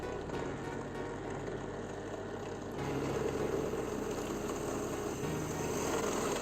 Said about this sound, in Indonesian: Saya menggunakan mata bor ini untuk mengebor kanal C baja ringan.